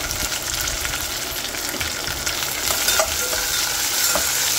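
Wheat rava fries in oil in a pan, giving off a continuous, fairly loud crackling sizzle with scattered light stirring scrapes close by, and no one speaking.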